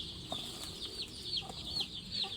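Several purebred Thai Leung Hang Khao chicks cluck in short, scattered bursts against a steady high-pitched background hum, fairly close and moderately loud, with no talking.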